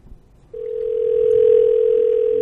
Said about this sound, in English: She ain't gonna answer that damn phone